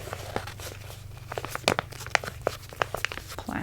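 Paper skincare packaging crinkles and crunches in close, irregular handling bursts over a low steady background hum, with no talking.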